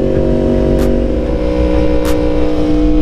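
A motorcycle engine runs close by with a loud, steady droning hum of nearly constant pitch, broken by two brief airy hiss bursts, with no voices.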